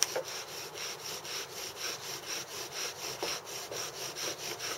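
A wooden bow drill spindle rubs in a notch with a rhythmic back-and-forth rasp, about two strokes per second, close and steady with no talk.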